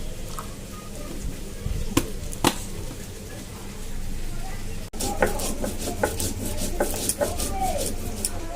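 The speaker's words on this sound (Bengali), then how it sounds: "তো এখন বেটে নিই মশলাটা।" Spices ground by hand on a flat grinding stone, with a steady rasping rub of stone on stone, interrupted by a few sharp knocks and a faster stretch of scraping strokes near and fairly clear.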